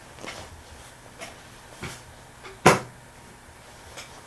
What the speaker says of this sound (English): there's a chair right next to me where I tried to place my feet and it was doing this crack